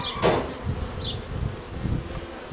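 Honeybees, including large drones, swarm over the frames of a small Miniplus hive as a continuous close droning buzz, with a few louder passes as individual bees fly by the microphone, and no talking.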